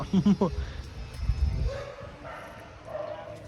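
A dog gives a few sharp, close barks and yips at the start, followed by mixed background noise and faint voices; the barking is brief and loud.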